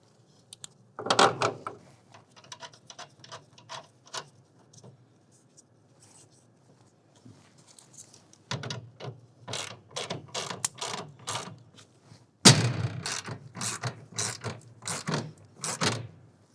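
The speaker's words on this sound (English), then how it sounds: "we're also going to tighten that down to 10 foot-pounds" A ratchet wrench tightening the strap clamp of a BAK Revolver X4 TS hard roll-up tonneau cover on a 2026 Chevrolet truck bed, producing bursts of rapid close clicking strokes separated by short pauses, with no talk.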